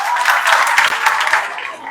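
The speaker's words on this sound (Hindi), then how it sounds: "जोरदार ताली लगाए, जोरदार ताली" Audience applause from students at a spiritual session, dense and sustained clapping that fills the room and fades slightly toward the end.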